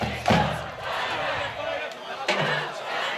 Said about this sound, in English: Darien cheerleaders doing boom, boom, dynamite.